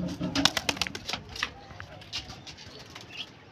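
A young pigeon makes soft cooing and wing-flutter sounds nearby, with a cluster of sharp little bursts early on, then quieter sporadic ones over a faint background.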